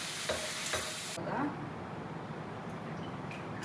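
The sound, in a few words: chicken frying in oil on medium flame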